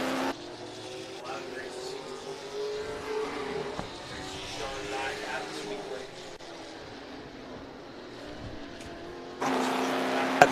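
Race cars at a speedway, steady engine drone at moderate distance with a commentator talking over it, and a louder surge near the end as cars come closer.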